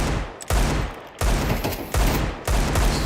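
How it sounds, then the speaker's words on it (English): Rapid automatic gunfire sprayed through smoke in Counter-Strike 2 during a PGL RMR 2024 match, several loud sustained bursts separated by short gaps, with no talking. "Stray bullets spammed through the smoke, nothing found."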